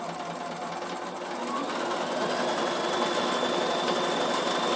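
A Bernina sewing machine runs a continuous, steady top stitch along a linen cushion, close and even, with no talking.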